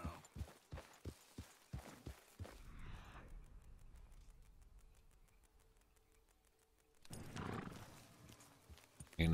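A horse ridden in Red Dead clops along in a quick, steady rhythm, then slows and fades into a quiet stretch before a louder rustle and movement return.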